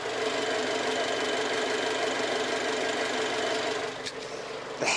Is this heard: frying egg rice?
no